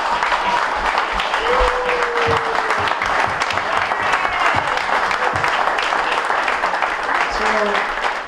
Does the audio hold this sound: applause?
yes